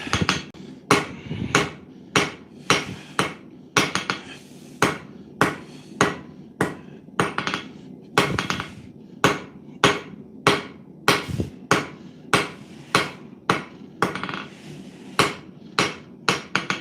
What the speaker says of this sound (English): it's been a while since I swung a hammer in anger